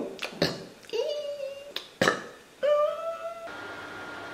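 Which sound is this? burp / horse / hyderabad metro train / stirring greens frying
burp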